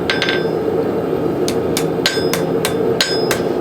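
A hammer strikes hot metal on an anvil while a woodcraft tool is forged, giving a series of sharp ringing blows in an uneven rhythm, close and loud over a constant low roar, likely the forge.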